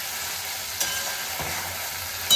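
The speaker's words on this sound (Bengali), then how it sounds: "রসুন বাটাটা একটু নেড়ে চেড়ে নিয়ে দিয়ে দিচ্ছি জিরে" Garlic, cumin, ginger and green chili paste frying in a pan for ghugni gives a steady close sizzle, with a couple of faint stirring knocks and no voices.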